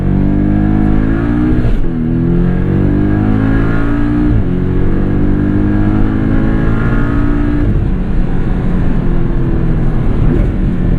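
An MTM-tuned 2017 Porsche 718 Boxster S with PDK launches hard, its loud engine climbing through rising revs with quick gear changes breaking the pull, heard from inside the car.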